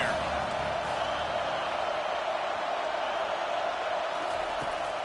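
Steady roar of a stadium crowd in College Football 25, a broad continuous wash of cheering noise holding level throughout with no clear breaks.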